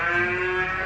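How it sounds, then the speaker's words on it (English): A cow's moo played as a sound-guessing game clue, a single sustained, steady lowing tone held close and loud for just under a second, with no talk over it. "A cow."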